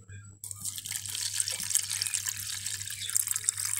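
Vinegar is poured into a sauce made with garlic and cumin, starting abruptly as a continuous close hissing trickle of liquid that stays fairly loud throughout.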